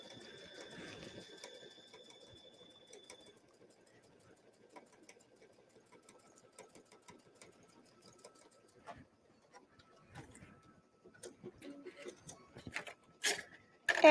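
A sewing machine sews a straight stitch at stitch length 3.0 with the standard J foot, its quiet rapid needle rattle running steadily and close, followed by scattered clicks and handling noises toward the end.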